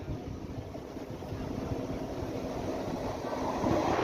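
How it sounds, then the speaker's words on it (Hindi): A local passenger train on the Aligarh–Tundla route rumbles steadily at a station, a continuous broadband drone of carriages that swells slightly louder toward the end, with no voices. "ये भी लोकल ट्रेन है"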